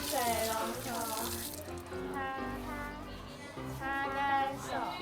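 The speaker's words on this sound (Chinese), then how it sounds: "用清水把手冲干净" Running tap water splashes as hands are rinsed clean during a handwashing demonstration, a continuous close gush heard under children's voices talking throughout.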